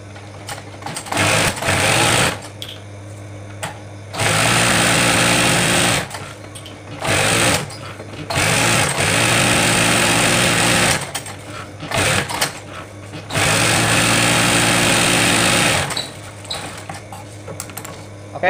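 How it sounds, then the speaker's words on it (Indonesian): A sewing machine stitches a bag in several loud bursts of rapid needle clatter, separated by short pauses of handling and quiet. "Kita jahit dulu."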